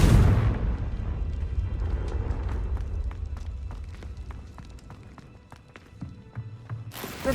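A Confringo blasting spell explodes in Hogwarts Legacy: a loud, deep boom at the start that fades into a long rumbling tail with scattered crackles, followed by a quieter sharp burst near the end.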